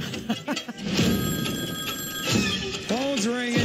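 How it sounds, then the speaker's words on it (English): A telephone rings briefly amid lively background chatter, with a high electronic ring tone sounding over talk and noise before voices continue. "Phone's ringing."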